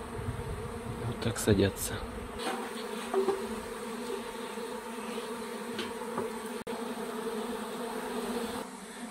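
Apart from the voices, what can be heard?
honeybee swarm buzzing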